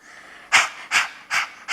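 A voice imitates tired panting, giving four short breathy H exhalations in a steady rhythm, close and fairly loud.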